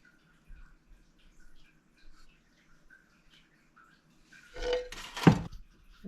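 Strained homemade herbal cough syrup made from harvested herbs poured from a pot into jars through a cloth: quiet ambient ticks at first, then a short close liquid pour and splash burst near the end.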